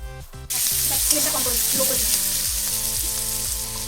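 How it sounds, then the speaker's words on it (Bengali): Vegetables for veg chow mein sizzle and fry in a pan, a loud, steady crackling hiss starting abruptly and continuing throughout, with faint stirring knocks underneath and no talk. "তো আমি এগুলোকে ফ্রাই হতে দেবো। হ্যাঁ, এটা হালকা ফ্রাই হবে।"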